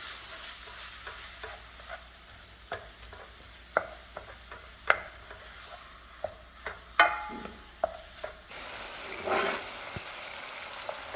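Ground beef sizzles in its rendered fat in a pan while a utensil stirs and knocks against the pan in irregular clacks, with a louder burst of frying hiss near the end, close and without talk.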